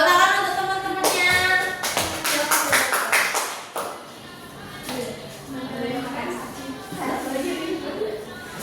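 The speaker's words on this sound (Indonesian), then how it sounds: "Tepuk tangan untuk teman-temannya." Children in a primary school classroom clap in applause for classmates, a burst of many hands lasting a few seconds, then fading into murmuring and chatter.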